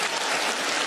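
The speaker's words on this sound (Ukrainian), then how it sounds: "Оплески." A brief burst of applause, dense even clapping from many hands at a steady moderate level, alone without any voices.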